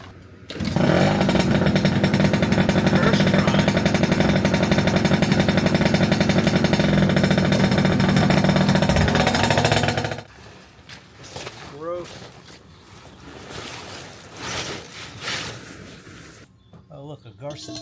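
A small scooter engine runs loud, close and steady for about ten seconds with a harsh buzzing drone, then cuts off, leaving quieter shuffling and handling sounds with bits of talk.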